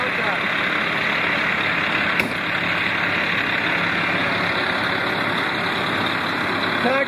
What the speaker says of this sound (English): Just heard the pump engage.